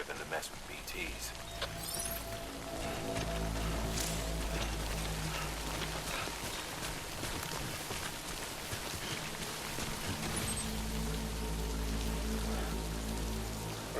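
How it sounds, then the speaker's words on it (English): Steady rain (timefall) in the video game Death Stranding, a continuous hiss of falling drops with low game ambience beneath, unbroken for the whole stretch. "Good thing it was raining."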